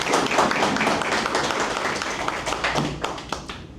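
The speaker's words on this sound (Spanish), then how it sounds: "para quien pido un aplauso, por favor" A small audience at a panel discussion on Jews in the Dominican Republic claps for a writer being introduced, a loose scattering of individual hand claps, fairly close and moderately loud, tapering toward the end.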